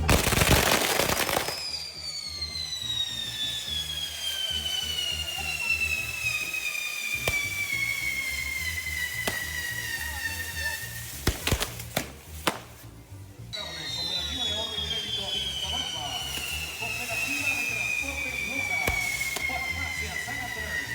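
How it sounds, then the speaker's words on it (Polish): Fireworks going off at a village festival held in honour of the Señor de la Buena Esperanza, with loud bangs, whistling rising rockets and crackling bursts fired close by, sustained throughout amid crowd noise. "W życiu nie widziałem fajerwerków, gdzie ludzie stoją 5 metrów od odpalanych lądów."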